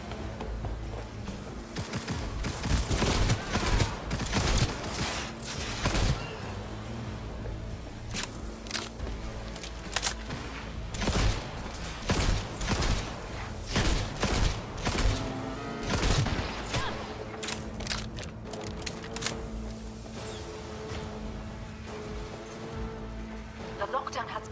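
Bursts of gunfire in the Cyberpunk 2077 video game, rapid volleys and single shots with heavy thuds and footsteps, loud and dense over about twenty-five seconds, with voices talking intermittently.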